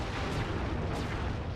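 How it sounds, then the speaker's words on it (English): Cannon fire in Sly 3: Honor Among Thieves, a steady low rumbling roar of booming blasts with two faint higher swishes, loud and continuous. "I'm not gonna snipe the cannons, I'll just tank this last one"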